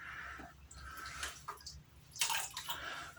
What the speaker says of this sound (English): let's go ahead and wet the brush